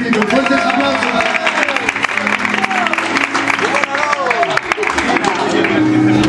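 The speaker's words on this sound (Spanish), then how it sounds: "Fuertes aplausos." Church congregation at a Good Friday Seven Words service applauding, a dense patter of clapping mixed with voices and lively background sound throughout.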